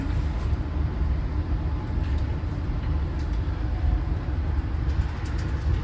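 A Mataram passenger train passing on an Indonesian railway, a steady, loud low rumble of wheels and carriages rolling by close at hand, sustained throughout without a break.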